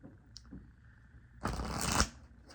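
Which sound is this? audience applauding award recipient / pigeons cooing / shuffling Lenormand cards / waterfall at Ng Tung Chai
shuffling Lenormand cards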